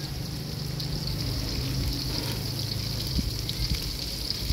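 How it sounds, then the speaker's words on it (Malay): Diced Holland onions, shallots and chopped garlic frying in a pan, giving a steady, continuous sizzle with a faint crackle throughout, close and moderately loud, with no voices. "Goreng-goreng sampai dia itulah, sampai dia naik bau lah."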